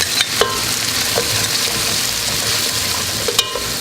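Onions and garlic fry in a pan with a constant close sizzle, punctuated by a few sharp clicks of stirring against the pan.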